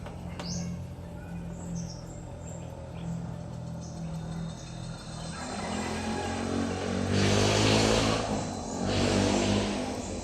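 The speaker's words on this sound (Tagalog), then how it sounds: "may mga motor na dumadaan" Motorcycles passing by outdoors, engines swelling from distant to near and fading, with birds chirping in the background.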